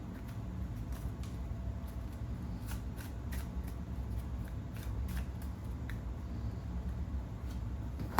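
Tarot cards are shuffled repeatedly in quick riffling bursts, close and fairly quiet, over a low steady background hum.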